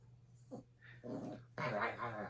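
A puppy growls in short rising bursts, a small rumbling snarl that grows longer and louder, close by and quiet overall.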